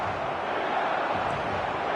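Stadium crowd at a football match in a video game, a steady dense roar of many voices holding at an even level throughout, with no single sound standing out.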